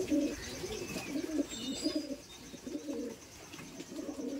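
Madrasi tournament pigeons coo nearby in soft, low, rolling calls that repeat in bursts, steady and fairly close, with no talk over them.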